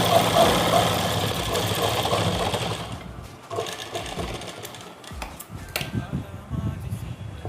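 Electric sewing machine running in steady bursts while stitching a straight seam on a salwar, a whirring mechanical drone that is loud at first, then pauses and restarts in shorter, fainter runs.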